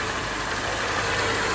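An Acura Integra idling with a noisy transmission, a steady mid-pitched engine drone with a faint rough undertone, close and constant, no voices over it.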